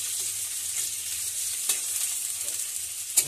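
Onions fry in oil in a nonstick kadai, giving a quiet, even sizzle with a few light scraping taps from a stirring utensil.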